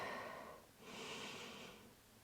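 Slow, deep breathing during a gentle yoga flow: an inhale followed by a long, airy exhale, close and fairly quiet, with no talk.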